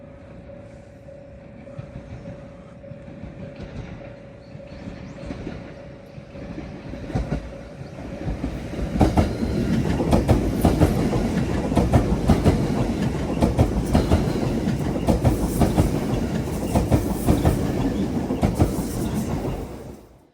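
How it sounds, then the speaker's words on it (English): An express train rolls through Kii-Arita Station without stopping, quiet at first then growing loud as wheels clatter rhythmically over the rails, sustained until the end. "so that's the express train gone"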